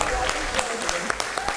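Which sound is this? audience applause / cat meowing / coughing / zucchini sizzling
audience applause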